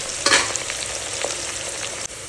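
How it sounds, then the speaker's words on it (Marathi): Onions browning in hot oil in a pressure cooker sizzle and crackle, with a sharp hiss and occasional stirring clinks, steady and close, no talking. "कुकर गरम करून त्यात ऑइल टाकला आणि कांदा थोडा ब्राऊन करून घेतला"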